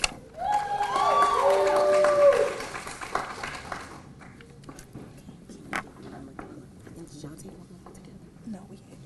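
Brief applause at a graduation pinning ceremony rises and fades in the first few seconds, a moderate patter with scattered cheers, then gives way to quiet room noise with occasional talk.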